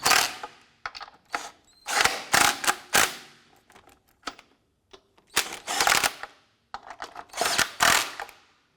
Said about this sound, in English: go ahead and torque your lug nuts down to 80 foot-pounds